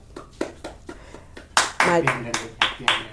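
Hand clapping at a small home celebration for reaching 100 subscribers, with children clapping in the background: a few soft claps first, then a louder run of about eight sharp, evenly spaced claps.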